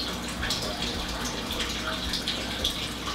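Water pouring from a hose hanging into a 55-gallon aquarium fish tank, a steady close splashing gush with a constant hiss throughout.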